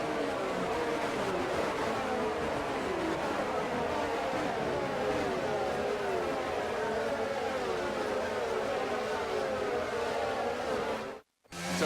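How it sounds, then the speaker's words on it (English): A pack of F1 cars in the F1 22 game rolls through a formation lap, a continuous dense drone of engines with wavering pitch, loud and sustained, cutting out abruptly for a moment near the end. "The formation lap gets underway, and every driver will be looking to settle in for the race ahead"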